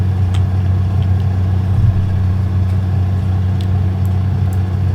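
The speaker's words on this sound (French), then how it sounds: "Le camion de fuel, il est là." A fuel truck idles in the flight simulator X-Plane 12, a loud steady low engine drone with a faint rumble and no talk.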